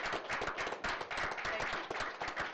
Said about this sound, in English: I want to applaud.